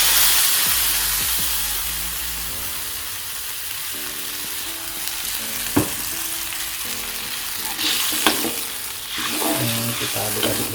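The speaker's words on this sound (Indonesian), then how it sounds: "Sekarang kita tumis terlebih dahulu ini bahan-bahan sebagai pewanginya. Nah, langsung kita masukkan bumbunya." Spice paste for beef curry sizzles in an iron wok, a continuous frying hiss broken by sharp scraping stirs and a few clanks, with faint musical tones underneath.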